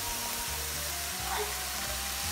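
Green leafy vegetables (mint, fenugreek, spinach) cook on a low flame, a steady soft sizzle and hiss held close and even throughout, with a low background hum beneath.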